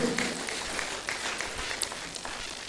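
A university audience applauds during a World Environment Day presentation by the Vice Chancellor, a steady wash of many hands clapping at moderate volume with no voices over it.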